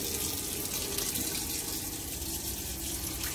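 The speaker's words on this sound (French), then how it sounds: "je vais remettre le robinet en marche." Water runs from a tap inside a camper van, a continuous splashing gush at moderate volume that never pauses.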